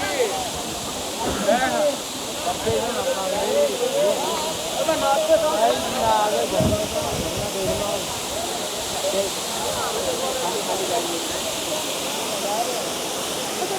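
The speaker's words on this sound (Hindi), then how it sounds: "7 किलोमीटर बाद फिर एक झरना।" Steady rushing water from a waterfall on the route to Kedarnath, a broad hiss that carries on throughout with faint voices or movement mixed in.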